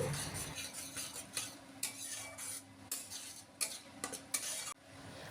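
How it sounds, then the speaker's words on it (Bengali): A spoon scrapes and stirs spice masala with kasuri methi in a pan. The scraping comes in repeated short strokes over a soft, low sizzle, close by with no voices. "কাসৌরি মেথি দিয়ে আবার একটু সময় নাড়াচাড়া করে নিচ্ছি"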